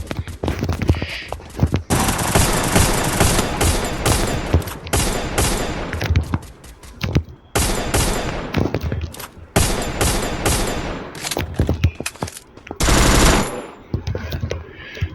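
Rapid automatic gunfire from the video game Free Fire rattles in long, loud bursts, broken by short pauses and a few single shots.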